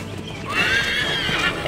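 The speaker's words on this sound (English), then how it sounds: "Go, horse!" Horse in the Assassin's Creed 3 video game at the Battle at Lexington, a loud close whinny rising and falling over a background of hoofbeats and battle ambience.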